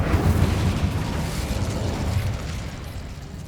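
An Incendio fire spell cast in the video game Hogwarts Legacy bursts out as a loud whooshing, rumbling blast that slowly fades over a few seconds, with no talking.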